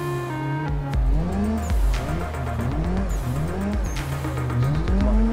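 A car drifting in the Assetto Corsa racing sim, with a steady engine drone and repeated rising tire squeals as it slides through corners, loud and close throughout.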